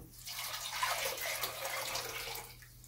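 Water poured into a pot holding fresh elderberries, a continuous close splashing and trickling stream lasting a few seconds before tapering off, with no talk.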